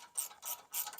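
A ratchet wrench clicks in three quick bursts of close, dry ticking while loosening a 17 mm bolt on the brakes of a 1999 Toyota Tacoma, with no talk.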